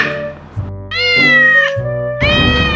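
A cat meows loudly and close, three drawn-out, wailing calls in quick succession with no other sounds.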